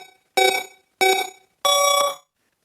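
A timer alarm gives three loud electronic ringing bursts, the first two short and evenly spaced and the third held longer, with silence between them and no talk.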